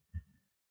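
One soft exhaled breath during a calm yoga session, brief and close, followed by silence.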